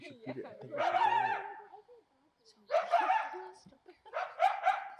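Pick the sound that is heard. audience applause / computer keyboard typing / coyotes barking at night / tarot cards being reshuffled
coyotes barking at night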